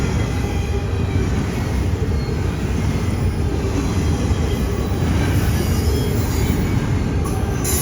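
A freight train rumbles steadily past at close range, a loud continuous roar of rolling wheels with faint metallic squealing throughout.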